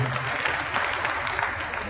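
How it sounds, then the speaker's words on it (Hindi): An audience at a mushaira poetry gathering in Meerut applauds in a steady wash of clapping, moderately loud and continuous throughout. "मैं चाहता हूँ मेरठ वालों से जोरदार तालियों से इन सब हस्तियों का इस्तकबाल करें"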